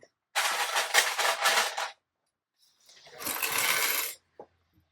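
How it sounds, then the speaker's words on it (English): Small plastic sewing clips rattle and clatter as a handful is picked up and sorted while fabric is being clipped, two busy bursts of clicking close by, with a quiet pause between. "And then I'm gonna get more clips because I ran out already."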